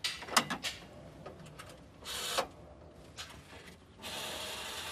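A 1960s public phone box telephone is dialed, with a rotary dial giving bursts of ratcheting clicks and whirring returns, close, dry and fairly faint, several separate turns of the dial spaced apart over five seconds.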